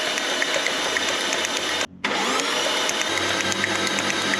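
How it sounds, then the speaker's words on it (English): A 1JZ engine in a Mark II turns over on the starter with spark plugs removed, priming oil, a steady whirring crank drone that cuts out briefly, then resumes. "we're just going to crank it over until oil comes out"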